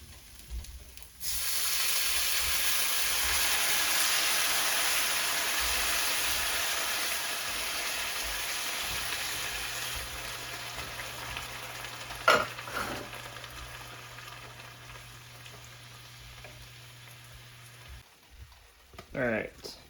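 Venison frying in a pan with salt, a loud steady sizzle that starts abruptly, then gradually fades while a low hum runs underneath, with a few sharp clinks and scrapes near the end.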